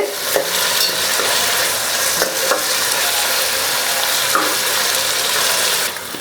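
Tomatoes sautéing in a pan for coconut milk fish gravy, a steady close sizzle broken by a few stirring scrapes and utensil knocks, with no voices.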